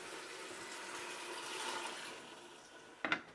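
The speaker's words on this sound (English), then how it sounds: "I'll just rinse out the can with some water." Water runs steadily for a few seconds into a can being rinsed, ending with a brief splash and gurgle as it sloshes inside.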